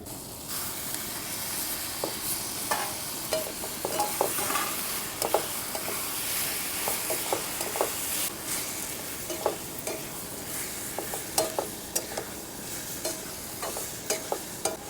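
Onion and coriander sautéing in a pan for tomato thecha, a steady sizzle and hiss broken by repeated scraping spoon strokes as the mixture is stirred, close and fairly loud with no voices.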